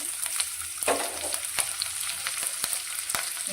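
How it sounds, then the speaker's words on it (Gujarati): Cumin seeds, a dried red chili and a small bay leaf sizzling in hot oil in a pan: a steady, close frying hiss with scattered sharp crackles and pops. "તેલ આપણું ગરમ થઈ ગયું છે તો તેમાં અડધી ચમચી જેટલું આપણે જીરું એડ કરીશું"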